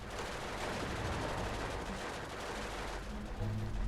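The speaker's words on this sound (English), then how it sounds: "And look at that gunfire." Gunfire in the WWII strategy game Steel Division 2, a dense steady crackle of distant small-arms and machine-gun fire mixed with battle noise, continuous and fairly faint throughout.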